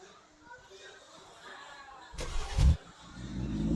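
A BMW car engine in a racing video game starts and revs up in a short surge, then settles into a steady hum, with a voice talking before and over it.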